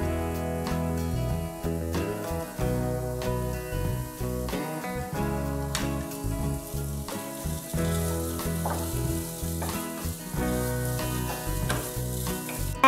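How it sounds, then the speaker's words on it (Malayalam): Chopped onion is sautéed in a pan for chilli bread; a continuous frying sizzle with occasional stirring clicks sits beneath prominent tonal background music. "ഇത് ഒരു ഉള്ളി അരിഞ്ഞതാണ് അത് ചേർത്ത് കൊടുക്കാം ഇതൊന്ന് നന്നായിട്ട് വഴറ്റി കൊടുക്കണം"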